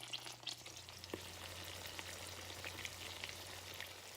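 Tuna patties fry in hot butter and a little olive oil in a pan, giving a steady close sizzle with scattered crackles and pops and a low hum beneath, no voices.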